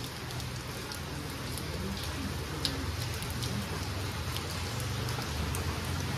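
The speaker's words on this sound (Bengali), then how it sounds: "এত বৃষ্টি হচ্ছে, প্রচন্ড বৃষ্টি, প্রচন্ড" Heavy rain pours down steadily in a dense, loud, unbroken hiss, with drops pattering close by and no voices.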